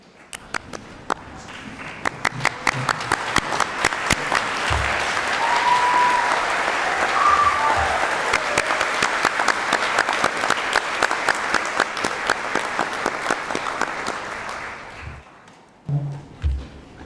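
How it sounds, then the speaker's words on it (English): Graduates and guests at a university graduation ceremony stand and applaud. Scattered claps build into a long, dense ovation with a few thuds of people rising, then the clapping fades and a few last claps and bumps follow. "I invite all my fellow graduates to stand and offer a warm round of applause"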